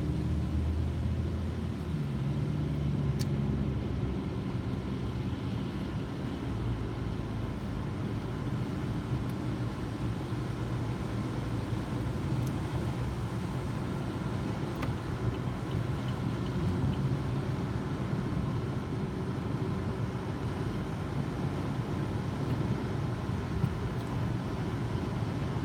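A car rolling along at night on an Uber driver's shift, a steady low road and engine rumble heard from inside the cabin, continuous and even for the whole stretch with no talking.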